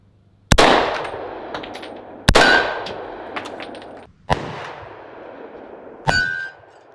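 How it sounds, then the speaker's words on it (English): Unsuppressed 300 Blackout subsonic rounds fired at targets: four loud, sharp reports spaced about two seconds apart, each with a ringing metallic clang from the struck steel and a brief decaying tail, with no talking. "So here are Subsonics without a suppressor."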